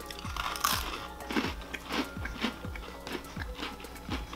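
Thin vegan, gluten-free brownie crisps with chocolate chips being crunched, bitten and chewed close up in a rapid series of sharp, brittle crunches, with a bag crinkling faintly.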